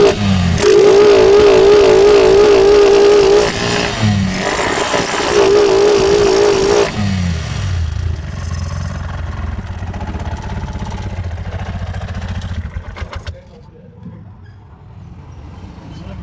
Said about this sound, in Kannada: ಸ್ಟಾರ್ಟ್ ಮಾಡಿ ಗಾಡಿ.